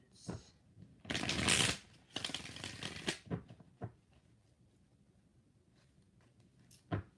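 Tarot cards are shuffled in a few quick riffling bursts, with soft handling clicks and taps between them, close by and fairly loud.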